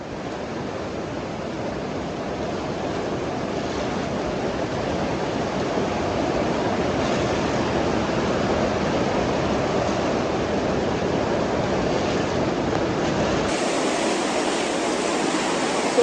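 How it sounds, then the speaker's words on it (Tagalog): Heavy rain from Typhoon Romina pours down around a house, a dense, unbroken roar of falling water that grows slightly louder midway and continues without any speech. "Ang lakas-lakas ng ulan."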